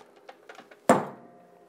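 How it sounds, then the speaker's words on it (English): A cap heat press shutting, one solid thunk after a few light handling taps, then a short fading ring. "and then I'm going to close my cap press."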